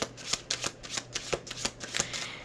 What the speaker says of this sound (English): We're just gonna shuffle the card and see what action is needed to move forward